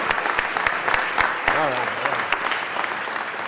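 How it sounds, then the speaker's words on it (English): An audience applauds in council chambers during a city council special meeting, a steady dense wash of clapping that runs the whole time while a voice speaks over it. "Come on, do a round of applause."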